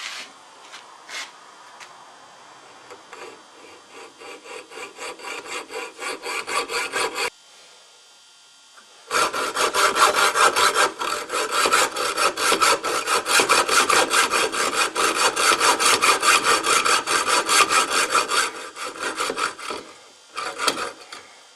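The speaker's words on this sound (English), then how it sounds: "I'm just going to cut that with a hacksaw." A hacksaw cuts through a piece of metal tube with rapid, rasping back-and-forth strokes. A few short strokes and a pause come first, then a long, loud run of steady sawing.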